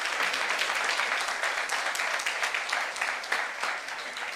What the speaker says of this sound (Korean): 박수 세게 쳐봐.